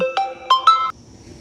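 A mobile phone ringtone plays a short rising melody of bright electronic tones, four notes in quick succession, loud and close before stopping abruptly.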